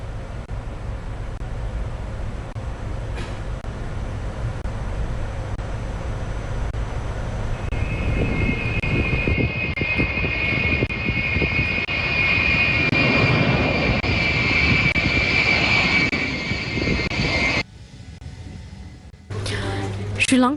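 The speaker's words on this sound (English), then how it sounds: "A Russian Ilyushin IL-76 aircraft, a heavy transport plane, reached Sri Lanka carrying aid." A Russian Ilyushin IL-76 heavy transport plane's engines roar loud and close for a sustained stretch, with a rising whine building partway through before the sound cuts away.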